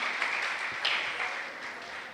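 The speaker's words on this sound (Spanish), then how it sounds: "Denle un fuerte aplauso al Señor, hermana, hermano, ahí donde está" A church congregation applauding for the Lord, the sustained clapping blending into a steady, moderately distant wash that gently fades toward the end.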